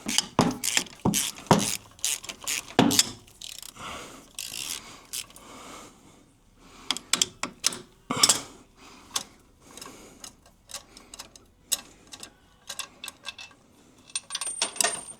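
Bolts come out during an oil cooler install on a Duramax diesel truck: bursts of rapid ratchet clicking and metallic scrapes, close up, separated by short quiet pauses.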